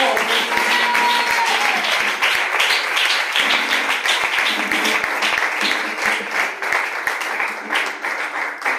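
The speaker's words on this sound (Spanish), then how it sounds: "Fuerte ese aplauso para el Señor." A church congregation breaks into loud, sustained applause for the Lord, a dense wash of many hands clapping steadily throughout.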